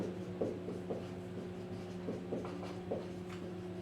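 A pen scratches out the working of a math problem on paper in short, uneven strokes, close but faint above a steady low hum, with no speech.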